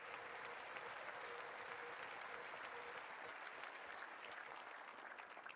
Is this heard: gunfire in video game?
no